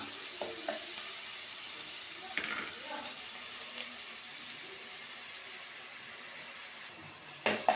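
Onions sizzle in a pan for a chicken curry, a soft, steady frying hiss with a few faint stirring scrapes and a louder clatter at the very end.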